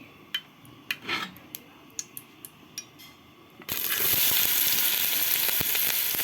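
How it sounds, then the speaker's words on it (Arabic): Onions go into hot ghee in a pot: a few light clinks and taps of utensils first, then a sudden loud, steady sizzle of frying that continues close and strong to the end. "احط حبة سمنة كمان، وبعدين هبتدي انزل بقى بالبصل"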